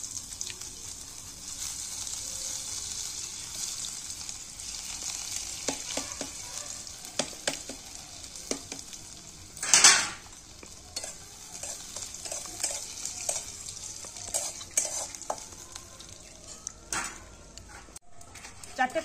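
Grated ginger and panch phoron fry in hot oil, giving a steady soft sizzle with scattered stirring clicks and one brief louder spatter burst; a voice talks faintly underneath.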